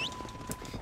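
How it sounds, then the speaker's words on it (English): Horse hooves clip-clopping in Red Dead Redemption, a short run of soft, close hoof falls in an uneven rhythm over faint game ambience, with no talk. "Oh, my horse."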